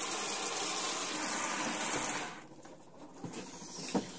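Water runs from a caravan shower fed by an electric pump in an FC Bailey Olympus 546, a steady hiss that drops to a lighter trickle partway through, with small knocks near the end.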